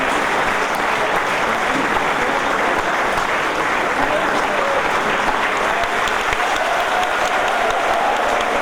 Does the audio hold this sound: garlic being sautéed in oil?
no